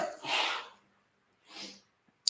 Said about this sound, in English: My wife's sneezing.